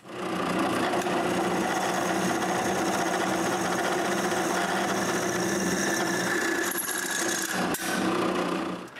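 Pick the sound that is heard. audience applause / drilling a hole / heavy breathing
drilling a hole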